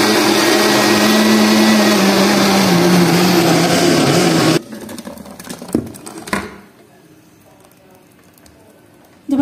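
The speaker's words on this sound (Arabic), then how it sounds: "دابا صافي غادي نطحنو كامل" A kitchen blender grinds mandarins for jam with a loud, steady whirring roar for over four seconds, then stops abruptly. A few clunks and quiet handling follow.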